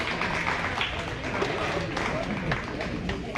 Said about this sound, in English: Judah Bolin with the East Butler Wranglers one more big round of applause.